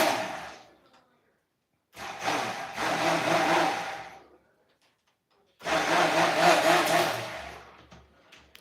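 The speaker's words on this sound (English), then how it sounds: "We just use a stick blender because we find it easier" A stick blender mixes a homemade turmeric scrub in two bursts of loud, close whirring about two seconds each, separated by silence, with a short fading whir at the very start.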